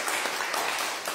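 A church congregation applauds after a special music performance, a dense, steady wash of many hands clapping together at an even level throughout.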